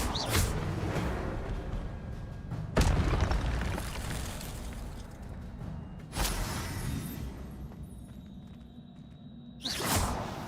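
Incendio fire spell cast in Hogwarts Legacy, loud fiery bursts with whooshing booms repeating four times at irregular intervals, each blast decaying into a crackling rumble.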